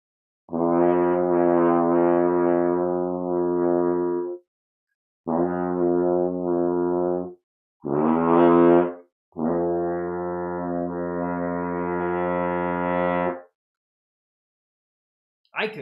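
French horn played in practice: long sustained brass notes in four separate phrases, steady and fairly loud, with short silent gaps between them and no talking.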